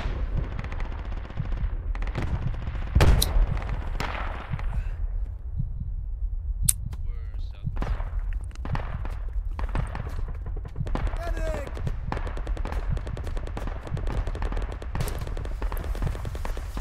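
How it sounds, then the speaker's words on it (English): Rapid bursts of gunfire in the video game Project Reality, with sharp shots and automatic volleys repeating throughout over a low rumble. "Gunfire coming from southeast."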